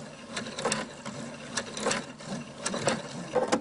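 A sewing machine stitches a waistband lining with interfacing tape in quick, uneven bursts of rapid mechanical clatter, fairly close and alone without talk.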